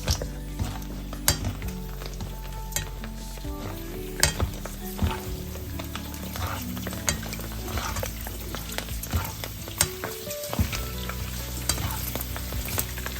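Panipuri puffs fry in hot oil with a steady, close, loud sizzle, broken by frequent sharp clinks and scrapes of a utensil against the pan.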